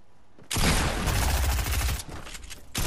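SMG and blue pump shotgun fire in Fortnite: a dense, loud, continuous burst of close gunfire lasting about two seconds, followed by a few more scattered shots.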